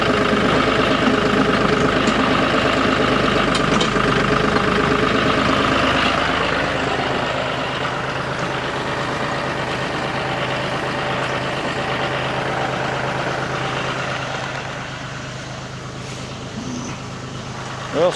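A truck engine runs steadily after the throttle is opened in a flood-damaged shop, a loud continuous low rumble that eases slightly toward the end.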